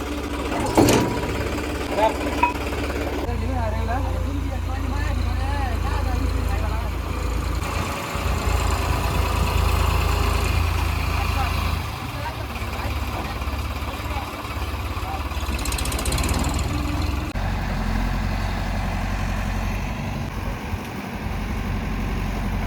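A low, steady tractor engine rumble runs throughout, with people talking over it now and then.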